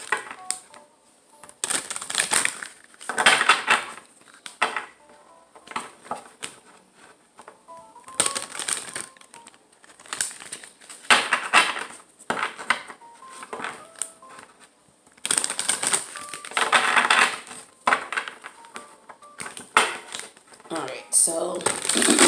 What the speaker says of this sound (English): I'm going to try to shuffle these big cards here.